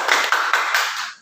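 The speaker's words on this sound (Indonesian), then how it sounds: "Kasih tepuk tangan untuk kelompok 2" A classroom group claps briefly for group 2, a short burst of close hand claps in a few quick beats that fades out after about a second.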